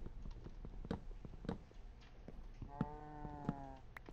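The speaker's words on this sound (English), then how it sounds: "Maybe it's the cows I'm hearing." Cows in a modded Minecraft world moo in a few short, faint, tonal calls near the end, with soft footstep-like clicks spaced across the quiet background.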